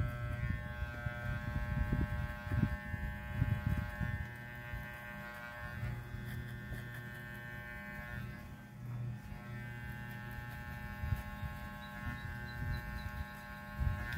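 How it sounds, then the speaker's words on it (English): A Walmart electric hair clipper runs steadily close by during a mid fade haircut, a constant buzzing hum with slight variation in tone as the blade moves through hair, no talking. "the clipper will do the fade for you."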